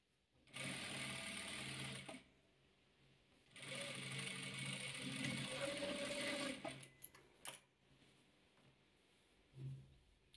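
A sewing machine stitches patchwork quilt pieces together in two long, steady whirring runs, followed by a few short bursts and clicks, heard close and fairly quiet.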